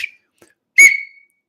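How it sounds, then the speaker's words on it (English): Small 3D-printed plastic whistle blown once in a short, shrill, close burst that fades quickly, after a faint brief toot just before it. "Oh, I made a whistle too."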